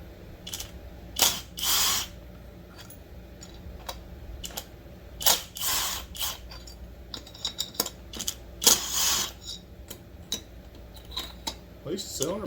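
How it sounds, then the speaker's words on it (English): Ratchet clicking as cylinder bolts are tightened on a Dolmar PS-7310 chainsaw during port work, with repeated bursts of short metallic ratcheting strokes separated by pauses, close and fairly loud, and a few mechanical clinks between. "At least the cylinder bolts are getting tight."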